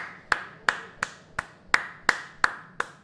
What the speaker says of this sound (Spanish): estos aplausos suenan igual